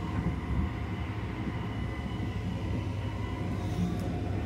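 Sunrise Express sleeper train rolling along the rails after crossing from the inner to the outer line, a steady low rumble with continuous running noise throughout, no clear switch clatter standing out.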